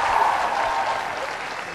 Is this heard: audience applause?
yes